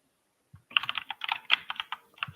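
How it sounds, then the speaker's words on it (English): Fingers tapping on a computer keyboard, a quick irregular run of crisp clicks starting after a brief silence, close and fairly clear, no voices. "I can hear it typing though."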